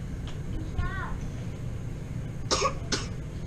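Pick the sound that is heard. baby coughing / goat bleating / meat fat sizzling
baby coughing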